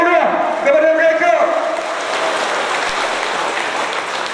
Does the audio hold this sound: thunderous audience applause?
yes